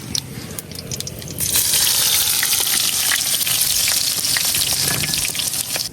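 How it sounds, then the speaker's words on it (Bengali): Chopped onion drops into hot oil already holding fried cumin and bay leaves, and a loud, close sizzle swells and holds steadily after a quieter start. "এখন দেওয়া দেম পেঁয়াজ কুচি।"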